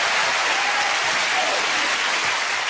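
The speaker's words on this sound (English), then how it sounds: "Give a big round of applause." Loud, thick studio audience applause on a Family Fortunes celebrity game show, an unbroken roar of many hands clapping throughout with no voices standing out.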